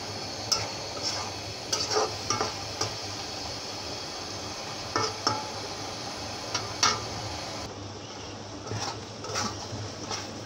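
Spice paste for a dried loitta fish bhuna is stirred and fried in a pot, with a quiet background sizzle broken by repeated sharp scrapes and clinks of the spoon at an irregular rhythm.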